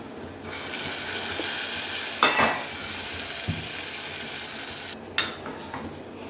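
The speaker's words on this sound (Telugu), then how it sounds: "ఆనియన్స్ వేసుకొని తాలింపు వేగింది కరివేపాకు వేసుకొని" Oil sizzling steadily as onions and curry leaves fry in a pan, with a couple of sharp metallic clinks from a spoon stirring partway through.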